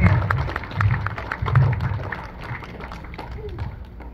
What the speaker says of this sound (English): So give them another round of applause for taking this time out to be here.